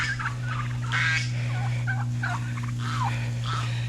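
A flock of turkeys gobbles in a series of warbling bursts, some close and loud and others softer, over a constant low mechanical hum.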